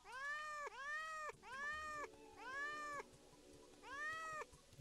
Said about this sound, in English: I got my little cat army now